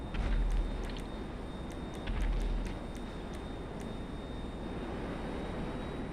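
A spaceship engine in a modded GTA 5 game gives a continuous deep rumbling roar with a faint steady high whine. It swells louder twice with a few clicking ticks, then settles into an even drone, and no one speaks.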